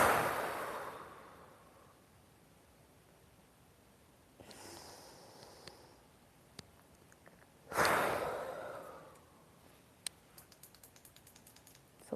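Deep breaths during a guided EFT tapping session: two long, airy inhales or exhales around 4.5 and 8 seconds, with quiet soft taps and clicks in between, close and gentle with no talking.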